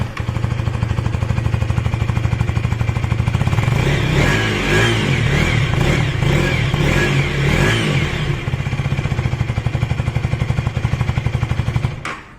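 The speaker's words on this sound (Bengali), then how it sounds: "তো চলুন একবার এর এক্সস্ট সাউন্ড শুনে নেওয়া যাক" A 2025 KTM Duke 250 single-cylinder motorcycle with a sporty underbelly exhaust idles and revs loudly and close up, a steady throbbing pulse that swells with throttle blips in the middle before settling back, with no talk.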